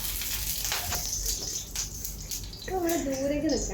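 Hot oil in a cooking pan holding some water spits and crackles in scattered bursts and hisses, with a voice speaking over the sizzle toward the end.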